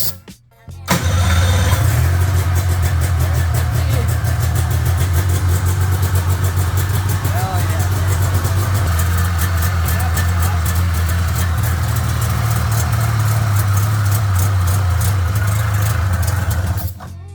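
Two-stroke snowmobile engine starting and then idling with its choke on, a loud close, steady buzzy drone that runs evenly until cutting off at the end.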